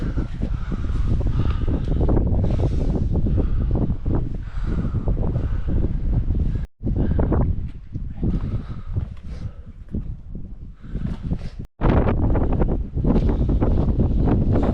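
Strong wind roars across a wet winter moorland edge at Stanage Edge in the Peak District, buffeting the microphone in a loud, steady rush that drops out briefly twice before surging back.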